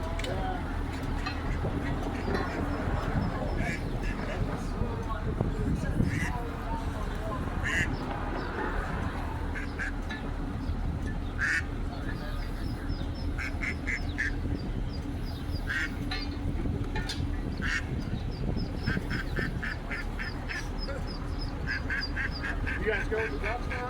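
Ducks quack repeatedly in short, nasal bursts during an outdoor duck rescue. The calls are moderately close and overlap one another, with people talking at the same time.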